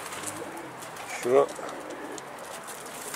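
A single pigeon-like coo from birds around a coop rises briefly over a steady outdoor hum, with a faint voice nearby.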